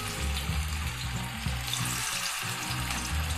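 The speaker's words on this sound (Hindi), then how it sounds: "देखिए अब मछली को हम फ्राई करेंगे" Rohu fish pieces frying in mustard oil over moderate heat, a steady close sizzle with a low bubbling rumble running throughout, no talking.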